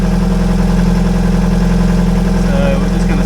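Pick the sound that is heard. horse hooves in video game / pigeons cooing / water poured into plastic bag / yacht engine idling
yacht engine idling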